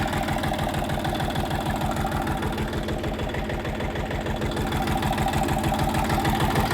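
A KM385 engine runs with a Bomet transporter potato digger, giving a steady, close, loud chugging idle with an even rhythmic knock throughout and no talking.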